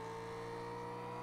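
A Mustang races in the video game Gear Club Unlimited, its engine giving a steady, sustained drone with a constant tone and no break over the short stretch, with no talk.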